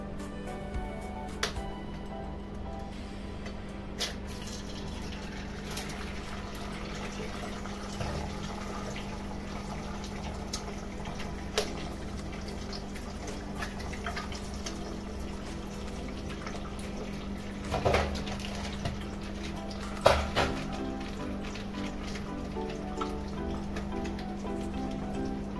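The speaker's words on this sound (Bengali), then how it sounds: "তেলটা গরম হয়ে গেছে, এবার আমি এর মধ্যে দিয়ে দেবো 2টো ডিম।" Two eggs fry in hot oil for egg chowmein, giving a steady, close sizzle and crackle with scattered sharp spits and pops throughout, under a constant low hum.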